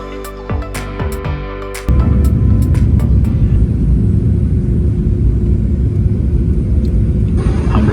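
Heard from inside the cabin, an airliner descends toward Suvarnabhumi Airport in Thailand: a few thuds, then a sudden jump to a loud, constant engine and air roar that holds steady.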